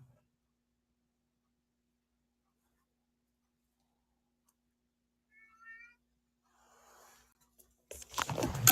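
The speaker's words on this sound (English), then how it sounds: "Let me go let my cat in, you guys. You hear him crying?" A cat outside gives a single faint meow from a distance midway through near silence, followed by louder rustling and handling noise at the end.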